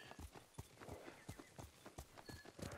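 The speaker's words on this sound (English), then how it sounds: "There's a horse." A horse in the video game Ghost of Tsushima walks with steady, faint clip-clop hoofbeats, irregular but continuous, heard alone.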